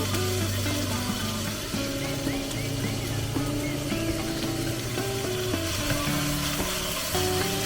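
Meat, bulgogi, frying in a pan at a riverside family campsite, a steady close sizzle with occasional stirring, while music plays throughout.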